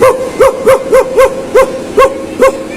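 Someone imitates a dog barking with seven short, evenly spaced woofs, close and loud, with nothing else behind them.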